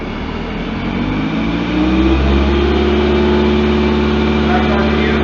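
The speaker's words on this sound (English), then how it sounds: "Okay, operator, rev it all the way up." Prinoth snow groomer engine revving up to drive its hydraulic motor, a steady diesel drone that climbs in pitch and loudness after the first second and holds high.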